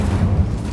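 Incendio fire spell cast in Hogwarts Legacy, heard as a deep, sustained booming rumble that swells slightly midway, with no voices over it.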